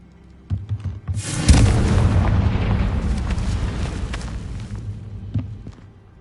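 A Confringo spell explodes in the video game Hogwarts Legacy: a heavy boom bursts out, then a long rumbling roar slowly fades, with a few dull thuds scattered before and after.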